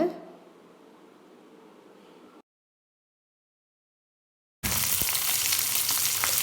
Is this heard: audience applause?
no